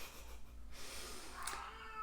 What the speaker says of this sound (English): Y'all hear my kitty cat?